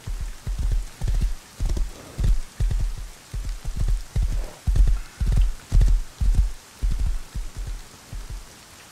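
Horse hooves clip-clop in a steady, even rhythm in the survival video game Rust, with about fourteen loud, close thuds over nine seconds and nothing else over them.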